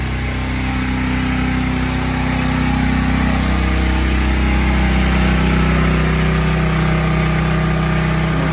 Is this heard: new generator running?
yes